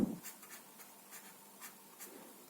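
A pen scratches across paper in faint, quiet strokes that recur every half second or so, soft and close, with no talking.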